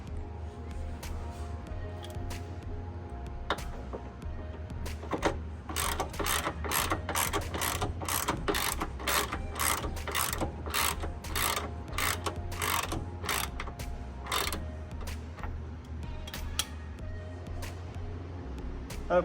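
Ratchet wrench clicks in rapid repeated bursts while sway bar bolts are loosened on a 2006 Mustang GT, a steady low hum running underneath throughout.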